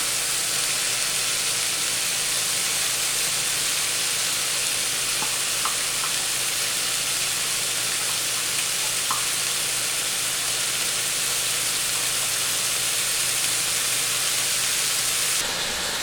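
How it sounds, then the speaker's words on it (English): Ground beef and onions browning in a pan for catsup tacos, giving a steady, even hiss of sizzling grease with a few faint scraping clicks, close and alone without any talk. "Let's brown up our ground beef a little bit here. And let's go ahead and add 1 cup of onions."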